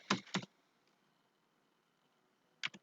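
Keyboard typing at a computer: a couple of quick clustered key clicks at the start, a long quiet gap, then another short burst of keystrokes at the end, fairly faint and close.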